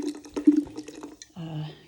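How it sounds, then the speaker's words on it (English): Sparkling water is poured to top up a grapefruit gin fizz in a glass: a short splashing fill that ends in a brief fizzing pour, close and clear. "I'm just going to top it up with some sparkling water"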